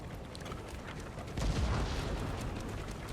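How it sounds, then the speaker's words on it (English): Artillery cannon fire striking cavalry in the Empire Total War video game, a dull low boom rising partway through over continuous battle rumble, moderately distant. "the front ranks of the cavalry did take a bit of a blast there"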